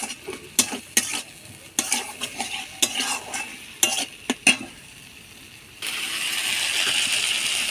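Tomato dropped into spiced oil for a village-style pointed gourd and prawn curry, with a run of sharp utensil scrapes and clinks against the pan before a steady, close sizzle takes over and swells toward the end.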